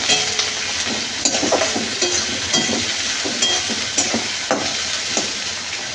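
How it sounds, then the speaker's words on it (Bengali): Onions frying in a pan for a prawn malai curry, a steady close sizzle with repeated scraping stirs of a spatula against the pan, no voices. "পেঁয়াজটা লাল লাল করে ভাজা হয়ে গেছে।"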